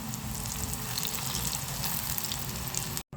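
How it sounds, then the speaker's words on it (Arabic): Breaded chicken cutlets (pané) frying in hot oil that has just cooked potatoes and eggplant, a loud continuous bubbling sizzle that cuts off abruptly near the end. "هننزل بالبانيه اهو والزيت سخن اهو بعد البطاطس والبتنجان. هنقلي يا دوبك بقى"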